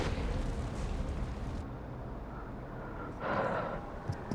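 Explosion in The Last of Us Part 1, a heavy broadband boom that rumbles through most of the short stretch, with a second burst of blast noise swelling near the end; no talk over it.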